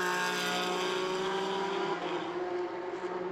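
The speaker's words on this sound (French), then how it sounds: "Et en GTB, il y a un beau duel entre les deux Porsche Cayman." Two Porsche Cayman race cars of the GTB class duel in a Belcar Series race at Zolder circuit, giving a loud, sustained engine roar whose pitch shifts midway as they pass.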